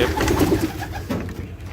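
Pigeons on a pigeon farm coo in low, soft repeated notes, several birds overlapping close by against a steady background hum.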